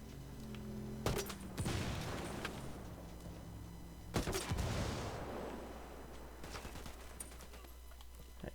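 R4 rifle grenade launcher gunfire in Ghost Recon Wildlands, two sharp bursts of shots a few seconds apart with booming tails fading into a low background hum.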